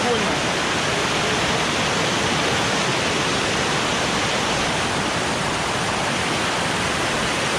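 A Jamaican waterfall roars with a dense, loud, unbroken rush of falling water, steady from start to finish and heard up close with no other sounds standing out.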